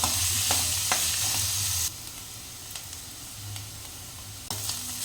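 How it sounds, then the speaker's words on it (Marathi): Onion sautéing in a pan toward golden brown for golyachi amti, a steady close sizzle with occasional scraping stir strokes, the frying noise dropping somewhat partway through. "कांदा छान परतून घ्यायचा आहे गोल्डन ब्राऊन होईपर्यंत आपण परतणार आहोत कांदा"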